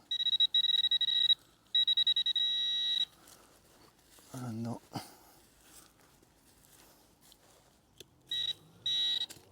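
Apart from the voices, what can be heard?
electronic device beeping loudly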